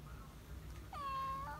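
A cat meows once, close and clear, a single drawn-out call in a quiet room with faint background noise.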